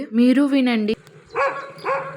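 A street dog mingling with goats, its coat the same color as theirs, barks twice in short, sharp bursts near the end, after a person talks close by.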